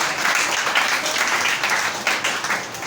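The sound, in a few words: congregation applauding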